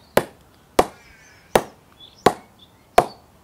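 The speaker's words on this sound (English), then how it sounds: "let's bounce the ball. We've got our trusted CA Test Star ball and see what this sounds like." A CA Test Star cricket ball drops onto a GM Maestro bat five times at an even pace, each a crisp, woody knock followed by a short decay, close and isolated against quiet.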